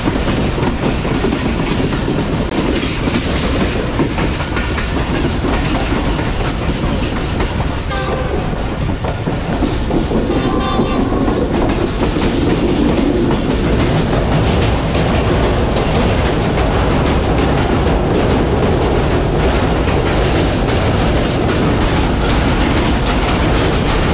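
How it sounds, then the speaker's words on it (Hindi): The Karakoram Express passenger train from Lahore to Karachi runs on the rails, a loud, continuous rumble with rhythmic clickety-clack of the wheels, heard from on board. "12:05 में हमारी ट्रेन निकल चुकी है लांडी जंक्शन रेलवे स्टेशन से।"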